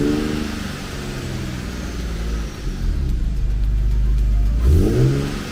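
An Infiniti Q50 widebody with its VQ engine and test-pipe exhaust revs up, a deep, loud, close rumble that climbs and swells in pitch before easing off, with no talk over it.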